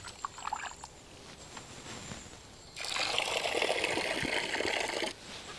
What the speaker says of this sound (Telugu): ఒక కేజీ చికెన్ అండి, శుభ్రంగా కడుక్కుందాం.